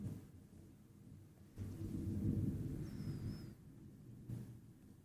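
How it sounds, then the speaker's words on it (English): Thunder rolls during a tornado outbreak storm, a deep rumble that swells in the middle and fades, heard faintly and at a distance under a low background hiss, with no talking. "That thunder was loud."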